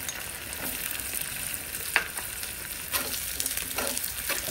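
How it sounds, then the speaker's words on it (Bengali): Onions and garlic fry in hot oil with dried chillies and cumin for dal tadka. A soft, steady sizzle plays alone, broken by a few louder spatters and stirring scrapes. "এখন এটা ভালো করে ভেজে নিতে হবে ব্রাউন কালার হওয়া পর্যন্ত"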